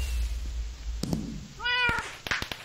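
A cat meow from the Minecraft Block Hunt game, one clear harmonic meow rising then falling, preceded by a few short clicks and followed by brief game sounds, with no talking.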